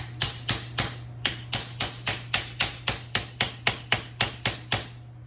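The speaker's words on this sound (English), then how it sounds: "And then we want to take a hammer" Sharp metallic taps from a hammer seating a rubber boot on a Honda Accord starter motor during a rebuild, about fifteen evenly spaced strikes in a steady rhythm, close and clear over a low hum.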